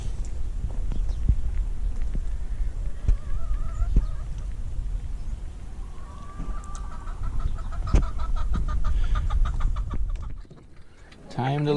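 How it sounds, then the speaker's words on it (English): Backyard chickens in San Diego clucking and calling in short, repeated bursts, fairly close, over a steady low outdoor rumble; the calls carry on throughout before a brief quieter moment near the end. "Time to let the chickens out."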